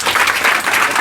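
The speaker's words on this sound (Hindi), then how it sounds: "सर के इस व्यवस्था के लिए एक बार जोरदार ताली बजाओ" Loud, dense applause from a crowd of students at an awards ceremony for pupils who passed their 10th board exams, steady clapping filling the whole moment with no gaps.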